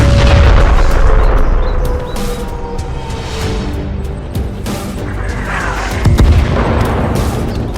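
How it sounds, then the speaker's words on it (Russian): Heavy cannon fire and explosions boom in a dense, rumbling battle din, with a loud blast near the start and another around six seconds. "Пристрелочный выстрел, огонь!"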